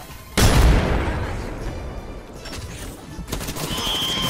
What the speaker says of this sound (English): Oh, he's throwing nades.